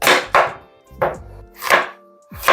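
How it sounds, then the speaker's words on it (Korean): A knife cuts large chunks of potato on a cutting board for a Korean braised chicken stew, giving five loud, close thuds at uneven intervals with short pauses between them and no talking. "감자는 너무 작게 썰으면 부셔지기 때문에 크게 썰어줍니다"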